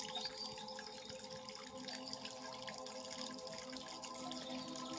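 A forest stream runs in a steady, continuous flow with soft drips and trickles, close and even throughout, no voices over it.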